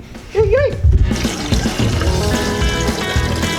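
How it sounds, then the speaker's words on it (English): Water drains from the radiator of a 1990 car, pouring and splashing in a steady, close stream after a brief voice at the start. "we're gonna drain all the, I think there's just water in there right now"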